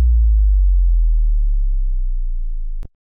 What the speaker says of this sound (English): Then I've got this 808 sub drop.